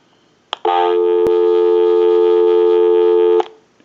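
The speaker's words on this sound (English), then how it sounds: "Give you some dial tone." A Western Electric 500 rotary phone on a key system gives a click, then about three seconds of loud, steady, close dial tone, ending abruptly with another click.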